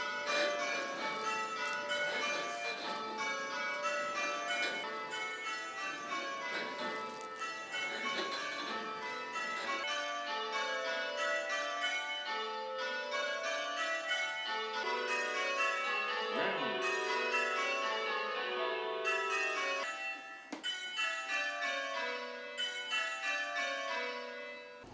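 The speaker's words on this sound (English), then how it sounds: "the computer, the program, will simply make the sounds of all the other bells" Church bells from a bell-ringing simulator ring continuous change ringing, a steady cascade of bright tolling bells in overlapping sequence, clear and unbroken for the whole stretch.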